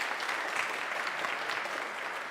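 A church congregation claps together during an Easter Sunday sermon, dense and steady applause that sounds somewhat distant and fills the room evenly.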